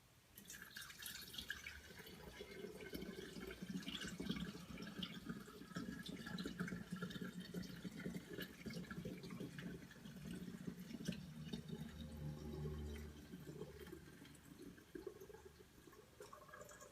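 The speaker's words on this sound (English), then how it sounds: "we're going to pour it back into our bottle, and we're going to strain" Homemade spiced rum pouring steadily through a small handheld strainer back into a bottle, a continuous trickling and dripping liquid flow heard close up for the whole stretch, with no talking.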